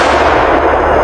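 A sniper rifle fires in a jungle setting, giving a single loud, close gunshot blast with a long booming tail that fills the whole brief moment, with no voices.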